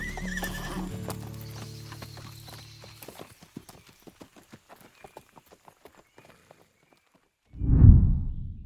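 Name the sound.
horses hooves on trail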